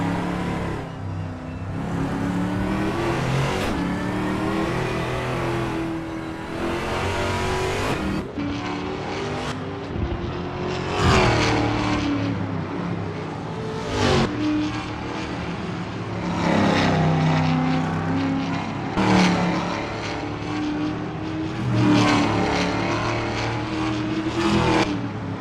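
A V8 Supercar on its tyre-warming out-lap at Sydney Motorsport Park in Assetto Corsa, its engine droning loud and steady, rising and falling through gear changes as it revs and eases off, with no voices.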